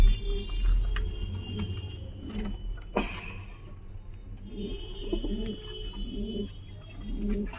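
Home-bred giribaz pigeons coo repeatedly in low, throbbing phrases spread over several seconds. The calls are close and steady against a light background hum, with a sharp click midway and no speech.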